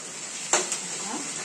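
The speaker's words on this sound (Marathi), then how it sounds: "परतून घ्यायचा कांदा" Onion sautés in a pan over a high gas flame, with a steady close sizzle and a brief metallic clink of a utensil against the pan.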